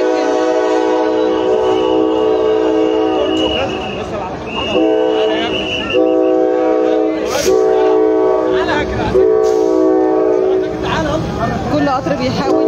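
Trains crawl along the tracks near the site of a two-train collision in Sharqia, Egypt. Wheels rumble and screech, a horn sounds in long held tones, and someone talks over the noise throughout.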